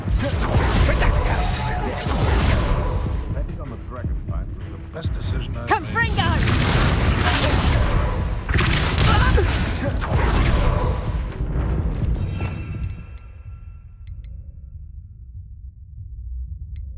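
Confringo blasting spells burst in Hogwarts Legacy, several loud booming explosions crashing in succession over game noise, with a voice talking through much of it before the blasts fade to a quieter rumble.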